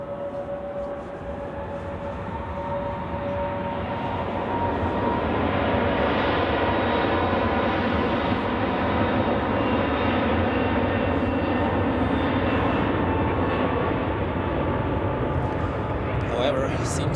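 A Boeing 777 at Zurich Airport on a winter day gives a loud, steady jet roar that swells after the first few seconds and holds, with voices talking faintly beneath it.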